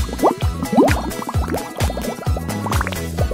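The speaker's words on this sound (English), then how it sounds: "Just add water." Water poured into a kiss-sealed candy-making gadget for forming tiny candy drops, heard as a busy run of small splashing, filling and dripping sounds with repeated gurgling bursts, close and fairly loud, with no talking.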